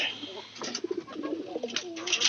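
Soft, throaty cooing of pigeons nearby, repeated in low warbling bursts amid faint background noise and rustling.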